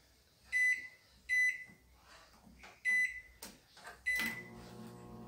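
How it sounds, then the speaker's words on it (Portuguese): An Electrolux ME44 microwave with its magnetron disconnected gives four quiet keypad beeps, then starts running with a low, steady hum. "E agora vocês vão ligar o micro-ondas com esse conector aqui desconectado"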